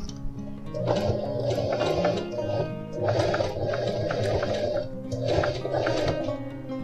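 A sewing machine stitches a new side seam on a pair of jeans, running slowly in three separate bursts of steady mechanical whirring with short pauses between them.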